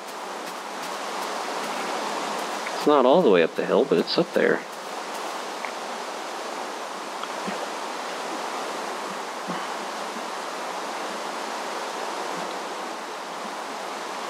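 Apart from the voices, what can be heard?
waterfall in Minecraft (Tekkit modpack), video game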